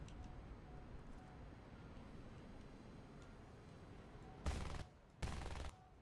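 An anti-aircraft gun in a jet combat video game fires two short, loud, rapid bursts close by, a brief pause between them, after several seconds of quiet background rumble.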